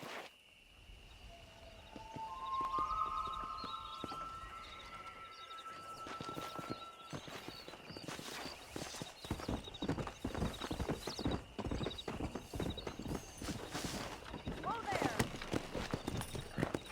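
Horse hooves clip-clop at a steady gallop in the Red Dead Redemption video game, rhythmic and close, with a whinny early on and ambient insects and birds in the background.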